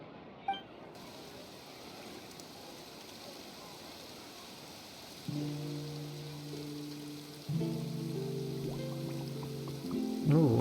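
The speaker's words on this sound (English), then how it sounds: "Ooh, it's raining." Light rain patters steadily in Genshin Impact's Fontaine region, a soft wash running throughout, with tonal game music entering partway and building in layers toward the end.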